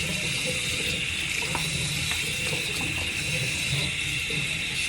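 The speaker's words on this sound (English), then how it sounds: "Okay, I wash my face. So I do like to use hot water." Hot tap water runs steadily into a sink during face washing, a continuous close hiss and splash with small irregular splashes, no talking.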